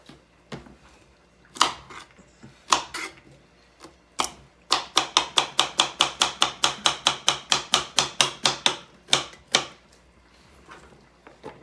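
A knife chops vegetables for hamburger soup on a cutting board: a few scattered cuts, then a fast, even run of about twenty crisp close taps before it slows and stops.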